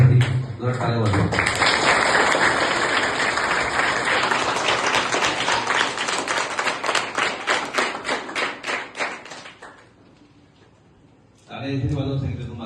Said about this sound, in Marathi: त्या सर्वांसाठी जोरात टाळ्या वाजवा